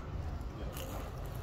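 Biting into the crunchy crust of a restaurant pizza, heard up close as a short, soft crackling bite and chewing with no talk.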